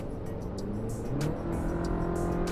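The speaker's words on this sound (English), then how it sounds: "That whistle from the turbo is pretty cool." A Chevy Colorado ZR2 pickup's turbocharged four-cylinder engine runs close by, and a rising turbo whistle rides over the steady engine rumble.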